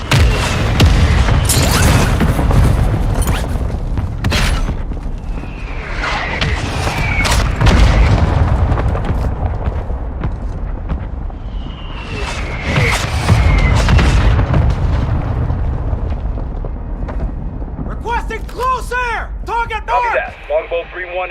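Heavy bomb explosions in the video game Warzone 2 boom repeatedly, deep and loud, with rolling rumbles and bursts between them, and a voice talks over parts of the action.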